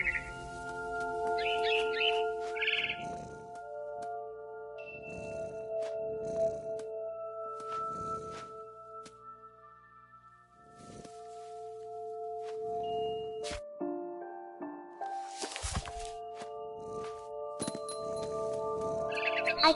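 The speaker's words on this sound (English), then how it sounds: "Then I heard chirping outside my window. It was a barn swallow going back to her nest." Barn swallow chirping in the video game What Remains of Edith Finch, with short bird calls scattered over a sustained tonal game soundscape and music, fairly quiet and mixed with other in-game sounds.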